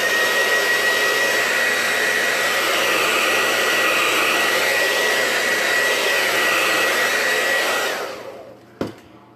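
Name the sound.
hair dryer blow drying paint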